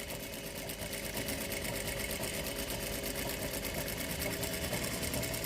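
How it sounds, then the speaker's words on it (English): Sewing machine stitching a seam line on quilt fabric pieces for a star block, a steady, continuous rapid mechanical whir that runs unbroken throughout with no talk. "So I'm going to just start sewing that line."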